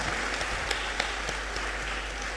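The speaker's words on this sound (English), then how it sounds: "please join me in giving another round of applause" An audience at the 3rd Kwame Gyekye Memorial Lecture applauds, a continuous even patter of many hands at moderate volume heard from some distance, with a few sharper individual claps standing out and no speech.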